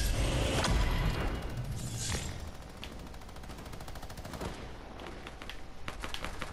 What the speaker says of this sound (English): it's just my teammates firing